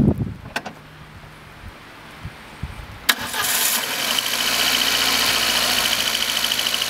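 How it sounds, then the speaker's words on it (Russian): A VAZ 2115 car engine, which has a draining battery, cranks and catches, then settles into a steady idle after a few seconds of quiet clicks and handling noises. "Сейчас будет произведен запуск мотора"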